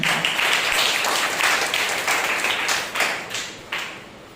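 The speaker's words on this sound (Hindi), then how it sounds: "एक जोरदार तालियां हो जाएं।" Congregation applauding during a Sunday church service, a dense steady wash of many hands clapping together that tapers off toward the end.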